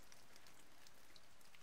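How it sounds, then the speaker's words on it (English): Steady rain falls outside a window in the video game Nameless, a faint, even hiss of patter with scattered soft drop ticks throughout, heard alone with no voices. "I can hear water drops falling in the window. Oh, it must be raining outside."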